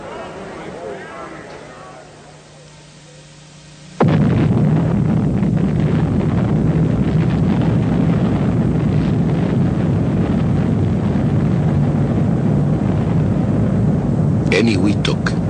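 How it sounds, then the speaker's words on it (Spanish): A thermonuclear test explosion, the first hydrogen bomb at Eniwetok in 1952, bursts in abruptly after a quieter stretch as a sustained, loud, dense low roar that rumbles on steadily without letup. "La prueba de la primera bomba de hidrógeno."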